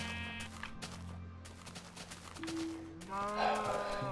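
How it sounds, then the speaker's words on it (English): Sheep bleat and a cow moos in the video game Minecraft, starting as a low, steady drone and ending in a louder, wavering bleat, with faint background noise throughout. "All of the sheep are really enthralled, but cow's not as interested."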